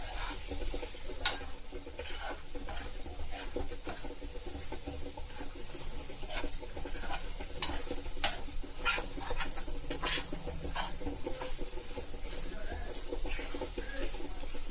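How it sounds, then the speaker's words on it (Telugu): Meat pieces coated in gravy stir-fried uncovered on a high flame until dry, giving a steady close sizzle with scattered scraping clicks of a spoon against the pan throughout. "ఇది పూర్తిగా మనకి కావాల్సినంత డ్రై అయ్యేంత వరకు ఇలా హై ఫ్లేమ్లోనే ఇలా వేయించు కలుపుకుంటూ వేయించుకుని"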